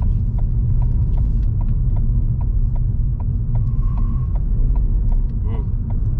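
A Ford Fiesta drives in second gear through a roundabout, its engine a steady, close rumble with a faint rhythmic ticking over the top, and no talk during the run.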